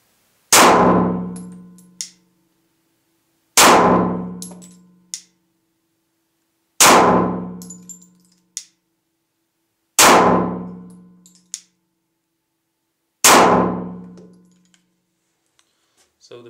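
A Glock 26 pistol fitted with a Glock 19 barrel fires five single rounds at an even pace about three seconds apart. Each sharp, loud report decays quickly and is followed by a faint metallic ping.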